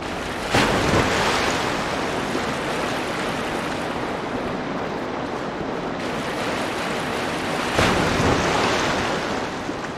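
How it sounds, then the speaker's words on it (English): Rushing water from the video game Dark Souls 2 surges as a loud, continuous wash with swelling waves and a windy roar, with no talk over it. "Water flowing."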